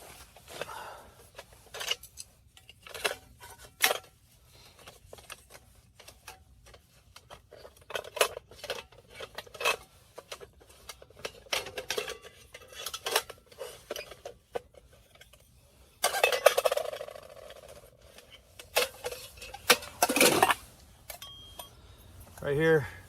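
A dual fuel camping stove and tea kettle are being set up in a hot tent, with repeated light metal clinks, taps and scrapes scattered irregularly throughout, under someone talking.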